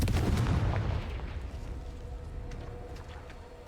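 Confringo fire spell blasts in Hogwarts Legacy, a loud booming explosive burst at the start that rolls off into a rumbling, fading tail, with no talking.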